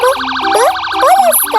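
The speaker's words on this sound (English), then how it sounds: "P for police car." A police car siren sound effect in a children's phonics song: a loud, fast-warbling wail running continuously over a simple musical backing.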